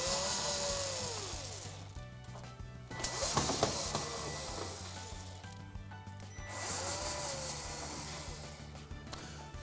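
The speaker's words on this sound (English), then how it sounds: "we'd need to first of all take out these 3 screws" Screws being removed from a Samsung smooth top range with a power screwdriver, in a few whirring bursts with rubbing and creaks between them, close and fairly quiet; no talking.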